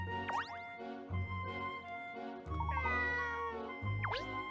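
Several cat meows in a Layton's Mystery Journey video game, repeated high plaintive calls with bright chirpy pitch inflections, clear and close over soft steady game background music.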